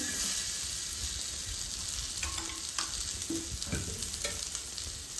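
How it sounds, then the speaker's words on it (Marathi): Steady oil sizzle from onions frying in a pan, with occasional clinks and scrapes of stirring as they cook, close and continuous. "कांदा भाजण्यासाठी आपल्याला तेल टाकून घ्यायचे तव्यामध्ये"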